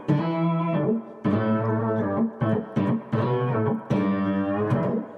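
A Source Audio multi-wave distortion guitar pedal shapes a few sustained, buzzy distorted guitar chords played in short bursts with brief gaps, loud and close with no talking.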